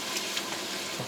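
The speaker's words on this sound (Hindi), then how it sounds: "दही को हम सही भूनेंगे" Yogurt frying in a pot while making beef paya, a soft, steady sizzle with faint bubbling, quiet and close, with no talk.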